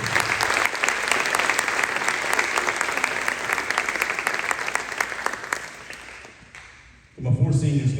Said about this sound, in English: I want to give him a big round of applause for the effort he put in.